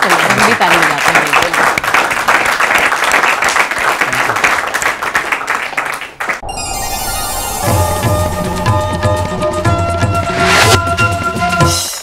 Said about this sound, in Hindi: गुल के लिए ताली बजाएं। चलिए, हम भी ताली बजाते हैं।